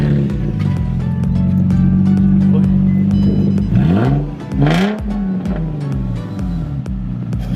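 Nissan 350Z fitted with a loud aftermarket exhaust idles with a deep, lumpy burble, then is blipped twice in quick succession, each rev rising sharply and falling back before settling into a steady rumble close by.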